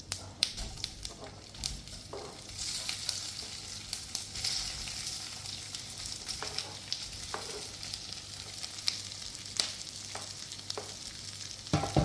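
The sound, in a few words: leftover rice dhokla sizzling in hot tempering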